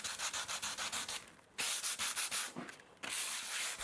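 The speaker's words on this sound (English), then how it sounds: "Any low spots are sanded with a sponge." A sponge sanding low spots on a fiberglass-covered mast rasps in quick, rhythmic back-and-forth strokes, close and fairly quiet, with two short pauses between bursts.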